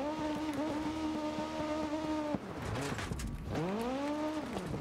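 A rally car engine in DiRT Rally 2.0 drones steadily at high revs, drops sharply on a gear change or landing, then climbs again, with faint tire and gravel noise mixed in.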